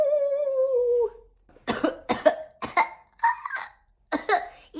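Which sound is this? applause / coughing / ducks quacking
coughing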